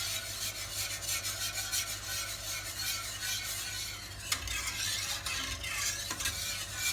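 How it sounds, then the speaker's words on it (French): Flan mixture stirred steadily in a pan over low heat, a continuous close-up rubbing and scraping of the utensil against the pan bottom that runs unbroken throughout, with one or two slightly sharper knocks and no voices. "À feu doux, on continue à mélanger pour que ça ne colle pas en bas."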